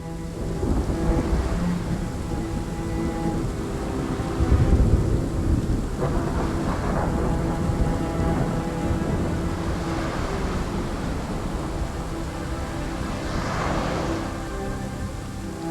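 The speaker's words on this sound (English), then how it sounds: "The game begins with a violent thunderstorm, from which emerges an island." A violent thunderstorm opens the video game RiME, with deep rolling thunder and a steady wash of rain that stays loud and dense throughout, swelling into heavier rumbles at intervals.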